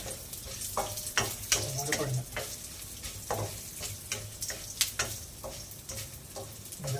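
Dried red chillies fry in a pan for a Sunday rasavangi, a quiet steady sizzle broken by scattered crackles and spatula taps, with no talk.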